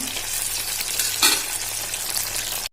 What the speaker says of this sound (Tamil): இந்த பக்கம் ஒரு 3-4 நிமிஷம் வெந்துக்கட்டும்.